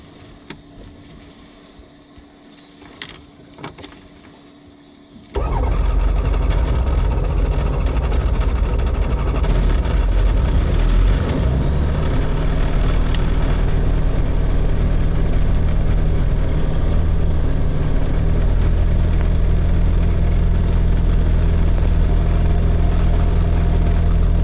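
A propeller aircraft engine on a border patrol flight cranks and catches, then settles into a loud, steady idle with a strong low throb that runs on unbroken.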